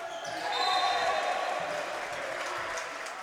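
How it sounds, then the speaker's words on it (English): A home basketball crowd jeers a free throw shooter, a sustained loud roar of voices swelling early and then holding steady, with a ball bouncing beneath it. "Home crowd letting Cole Newton hear it, but he's unfazed"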